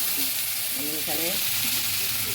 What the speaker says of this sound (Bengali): মাছ ভাজার কড়াইটার মধ্যে আরেকটু তেল দিয়ে আমি আলুগুলো দেবো